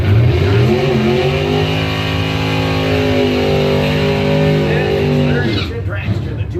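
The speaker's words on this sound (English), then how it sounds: "the 2016 American Rear Engine Dragster for Classic Instruments of Boyne City, Michigan" A 2016 American rear-engine dragster at a drag racing event revs loudly for several seconds. The engine holds a steady, sustained drone and then cuts off abruptly, and an announcer talks over it.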